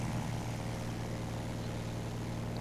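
A propeller warplane engine in War Thunder drones steadily and evenly throughout, a continuous mid-level buzzing hum with no break.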